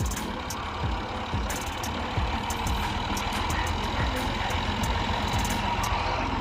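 Several tractors loaded with sacrificial goats driving along a road through fields in Jaffna, Sri Lanka, a steady mid-level engine rumble that continues throughout with no talk.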